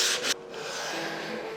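Sandpaper is rolled to follow the contours of a wooden baseboard during an apartment remodel. A brief loud rasping stroke drops to a quieter, continuous rubbing scrape, close by and with no voices.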